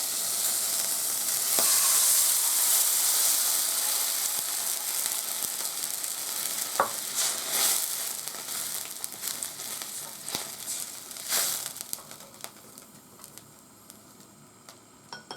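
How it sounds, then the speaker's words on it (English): Roughly 100 cc of dashi broth hits a hot pan while making a hijiki natto dish, giving a loud, steady hiss that fades gradually, with a few sharp clicks and clatters along the way and no voices. "And then you pour this dashijiru, yeah? Dashijiru about 100 cc."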